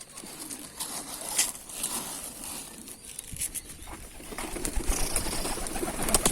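Adana pigeons cooing softly in a loft among scattered barley feed, faint low calls amid light rustling and pattering, with a gradual rise in activity toward the end.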